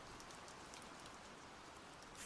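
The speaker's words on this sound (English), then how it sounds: "the only sounds were the gentle patter of the now fading rain" Fading rain pattering gently, a faint, soft, even hiss of scattered drops throughout, quiet and distant, with a slight swell at the very end.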